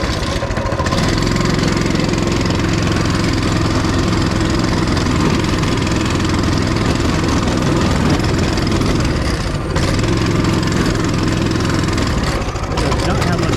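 A small Coleman mini-bike engine runs steadily up close, with a continuous loud low-pitched drone that holds roughly even throughout and only brief dips. A voice may be faintly present under the engine noise.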